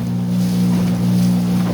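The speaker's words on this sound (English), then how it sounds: "the boat handles it fine. Yeah, there's a bit of noise here and there" A tiny houseboat cruises over open water with a strong steady low motor hum and wash of water and wind against the hull, close and continuous without talk.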